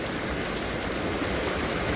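A steady broadband rush of flowing water from a village stream near the Rete dam, continuous and fairly close with no other sounds.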